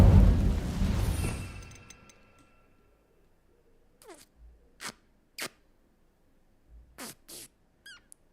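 A whooshing fire blast from the Incendio spell in Hogwarts Legacy erupts loudly at the start and fades over a couple of seconds, followed by quieter scattered swishes and short high-pitched magical effects.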